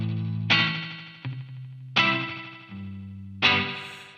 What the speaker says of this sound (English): you're still hearing a lot of little echoes, kind of like almost like a spring reverb going on